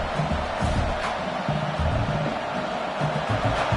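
A football stadium crowd on 4th down makes a dense, continuous roar of cheering and noise, loud and unbroken throughout.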